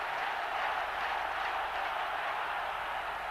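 A cricket crowd at a stadium roars and cheers in a steady, distant wash of noise, with no separate chant standing out.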